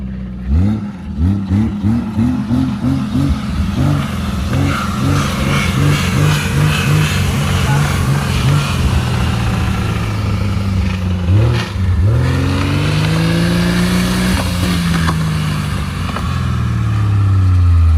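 Jeep engine accelerating at high speed, a loud close roar with rhythmic revving pulses early on, then a long sweeping rise and fall in pitch as the engine climbs through its gears.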